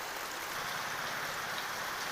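Rain falls steadily, a dense, even hiss of drops that stays constant throughout with no voices over it.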